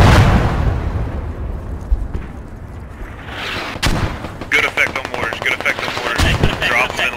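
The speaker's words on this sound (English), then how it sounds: "We got mortars coming down." Mortar rounds coming down amid gunfire in a military firefight: loud booming impacts and rattling bursts of shots, with voices calling over the noise.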